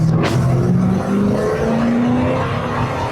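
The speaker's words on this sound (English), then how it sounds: "You'll hear that V8 scream all day," A Ford Crown Victoria with a 4.6-liter V8 accelerates hard, engine note climbing steadily through a gear in a loud, continuous rising drone with road roar beneath.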